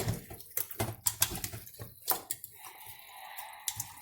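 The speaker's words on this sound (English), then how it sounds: "It's dripping on the counter." Liquid drips and splashes onto a kitchen counter while brown stew chicken with vegetables is being seasoned, a loose run of small wet taps and squishes at close range, with no talking.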